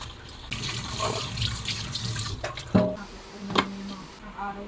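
Something is rinsed under running tap water beside a 2-litre electric pot. A steady splashing stream continues throughout, with a few louder splashes and clinks over it.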